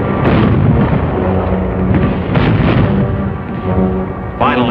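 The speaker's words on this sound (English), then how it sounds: "the order was given to commence firing" Artillery fires during the 1945 Battle of Manila, in a continuous roar of heavy booms and rumbling blasts, loud and close, with a few sharper reports standing out from the din.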